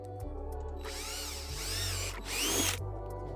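A power drill with a 5/16 bit whirs up in bursts close by, its motor pitch rising and falling as it bores holes in two or three runs.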